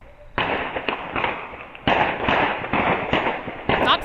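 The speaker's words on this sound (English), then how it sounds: "Straight up gangland style shootout." Gunfire from a 4 a.m. shootout in North Seattle cracks out in rapid bursts, dense volleys of sharp loud reports with short gaps between them, echoing across the neighborhood.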